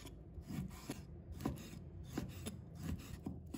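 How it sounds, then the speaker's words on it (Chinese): A knife slices pork belly into thin pieces on a cutting board, making rhythmic rasping strokes with soft thuds, about five regular cuts, close and fairly quiet. "再把它切成薄片"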